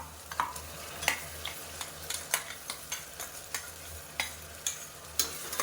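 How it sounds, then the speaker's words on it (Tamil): A ground paste of cashew, shallot and ginger-garlic fries for chicken gravy under a low sizzle, while a spoon scrapes the pan in a steady rhythm of about two strokes a second, close by and with no talking. "சேர்த்துட்டு பச்சை வாசனை போகிற அளவுக்கு வதக்கி விட்டுக்கலாம்"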